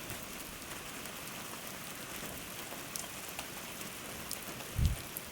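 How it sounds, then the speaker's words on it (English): Steady patter of rain dripping off a cabin roof, fairly soft and continuous, with a single heavier thump near the end. "Some of it's dripping off, and then some of it will come off in a stream of water."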